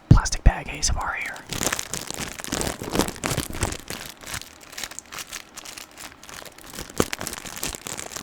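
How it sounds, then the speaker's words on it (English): A small plastic bag crinkles and crackles close up in an ASMR setting, with dense irregular rustling that runs continuously through the whole stretch. "Little plastic bag ASMR here."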